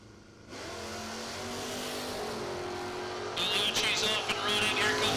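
Drag race launch between a 440-powered Dodge Challenger and a new-model Camaro: a sudden engine surge, then a sustained roar that builds and steps louder as the cars pull away, with an announcer talking over it.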